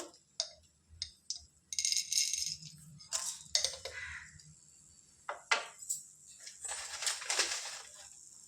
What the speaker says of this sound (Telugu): ఇందులో కొద్దిగా పల్లీలు వేసుకుందాం ఒక గుప్పెడు ఇందులోనే ఒక వన్ స్పూన్ ధనియాలు